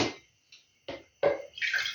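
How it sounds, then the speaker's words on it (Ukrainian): Salted water splashes and pours in short separate bursts into a container of cherry tomatoes, three or four brief gushes with quiet gaps, ending in a longer stream. "помідори заливати цією водою соленою вже"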